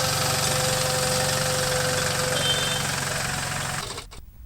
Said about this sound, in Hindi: मिनी ट्रैक्टर में लगे सैनिटाइजेशन मशीन का निरीक्षण किया